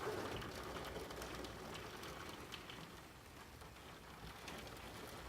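Heavy rain pours down outside a window in a steady, dense hiss so hard it turns to mist, with no talking.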